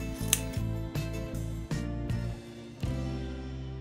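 Sewing scissors snip through fabric ends while a collar and collar stand are made, giving a series of sharp close cuts roughly every half second over a low steady background hum.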